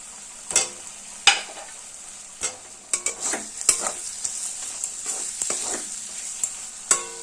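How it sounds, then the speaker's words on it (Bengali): Fried potatoes are stirred through spice paste in a pan for a fish and cauliflower curry, with a low sizzle broken by repeated scraping strokes and clanks of the spoon, alone without talk. "আলু আর মশলা কষিয়ে নেব"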